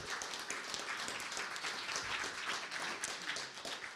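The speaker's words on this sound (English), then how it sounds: "let's give them a round of applause for supporting this" An audience at a public science talk event gives a steady round of applause, a dense, even patter of many hands that stays fairly soft and distant and lasts without pause.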